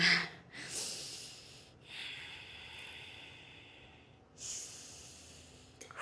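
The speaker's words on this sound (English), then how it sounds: "you gotta breathe" Deep breaths during a yoga flow, heard as a series of close, airy inhales and exhales with breathy swells and pauses between them, a quiet hum beneath and no speech.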